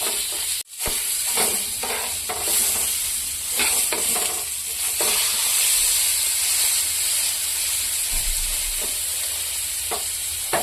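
Tilapia fries in oil on a tawa with a steady, close sizzle and hiss. A sharp clack near the start comes as the fish is flipped, then the frying carries on evenly.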